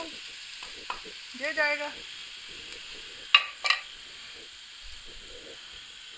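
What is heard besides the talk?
white cumin seeds frying in a pan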